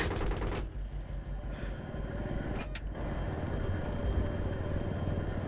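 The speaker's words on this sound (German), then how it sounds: "Noch mehr Schüsse." Rapid bursts of video game gunfire from Battlefield 3 crackle throughout, with dense automatic fire and a few sharper individual shots, loud and close.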